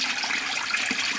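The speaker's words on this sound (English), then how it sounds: "this water is going around quite quickly" Water swirls rapidly in a homemade blue bowl gold concentrator, a close, continuous rushing and gurgling churn with no voices.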